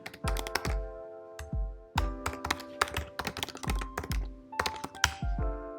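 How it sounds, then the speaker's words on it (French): A keyword is typed on a computer keyboard: bursts of crisp, close key clicks and thunks in quick uneven runs, with brief pauses between words and no talking. "On va taper le mot-clé musculation des jambes."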